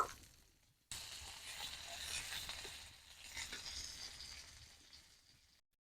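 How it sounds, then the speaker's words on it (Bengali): Pieces of rui fish fry in oil on a flat tawa, a steady crackling sizzle that starts abruptly after a brief quiet lead-in, holds strong and close, then fades before cutting off. "বাকি মাছগুলো দিয়ে দেব তাবার মধ্যে ওই একইভাবে ভেজে নেব"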